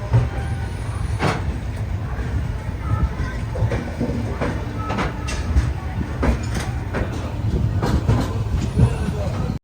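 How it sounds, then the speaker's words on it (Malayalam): The Jan Shatabdi Express rolls into Kharagpur Junction, a loud ongoing rumble with rhythmic wheel clacks and occasional sharp knocks heard from onboard, with some talk mixed underneath. "ട്രെയിൻ അങ്ങനെ ഖടഗ്പൂർ ജംഗ്ഷൻ സ്റ്റേഷനിലേക്ക് ഇതാ എത്തിക്കൊണ്ടിരിക്കുകയാണ്"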